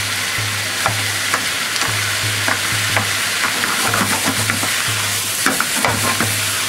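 Udon noodles, past their best-before date, stir-fry for yakiudon in a small frying pan, giving a steady loud sizzle with repeated clacks and scrapes of stirring throughout.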